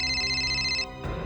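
A telephone rings with a bright electronic tone that cuts off abruptly, leaving a low hum behind.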